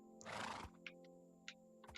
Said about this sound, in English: There's another horse.